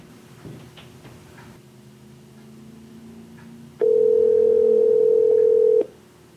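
A steady telephone tone sounds loud and continuous for about two seconds during a call to a caller, after some faint clicks and low background hum.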